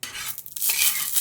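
Panch phoron spices stirred in hot oil in a pan, a short burst of sizzling with scraping, briefly dipping midway before resuming loud and close.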